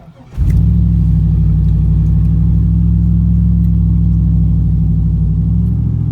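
A Chevrolet S10 pickup truck cranks over and fires at night, settling straight into a loud, steady, rumbling idle close by.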